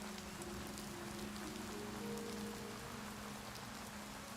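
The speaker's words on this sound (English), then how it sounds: "It's raining right now." Steady rain patters down in the Oblivion Remastered video game world, a continuous even hiss of falling drops with a faint low tonal hum beneath and no voices.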